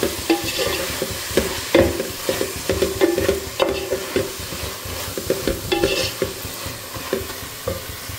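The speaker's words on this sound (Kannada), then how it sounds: "ಅದಕ್ಕೆ ಅವಾಗವಾಗೆಲ್ಲ ಕಲಿಸ್ತಾನೆ ಇರಬೇಕು, ಅದು ಚೆನ್ನಾಗಿ ಫ್ರೈ ಆಗೋವರೆಗೂ." Ingredients for fenugreek dal fry in a pan while being stirred, a steady run of close, rhythmic scraping and clatter over a continuous sizzle, with no voices.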